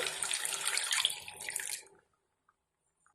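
Water pours into an egg curry for about two seconds in a close, splashing rush, then cuts off into near silence with one faint tap at the end.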